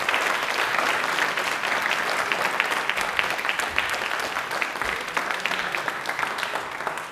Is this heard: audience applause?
yes